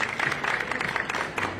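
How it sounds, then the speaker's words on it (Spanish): An audience applauding a speaker at a talk, dense, steady clapping from many hands filling the room, fairly loud and close, with a faint murmur of voices beneath. "El aplauso muy merecido, claro que sí, para el ponente y para el secretario"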